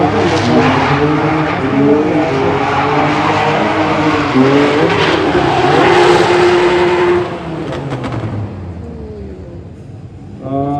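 Drift car on a qualification run, a loud roaring engine with shifting revs and screeching tires, close and sustained before dropping away near the end.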